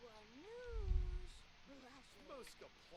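A stray cat in a life-simulation video game gives a long drawn-out meow followed by shorter chirpy meows, fairly close, with someone talking over part of it.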